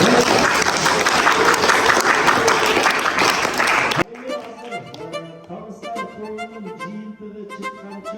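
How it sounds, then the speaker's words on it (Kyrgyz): A crowd at a school creative-projects awards event gives students a loud burst of sustained applause for about four seconds, which cuts off abruptly into music with a steady melodic line. "долбоорду ишке ашырган окуучуларыбызга дагы бир дүркүрөгөн кол чабууларды"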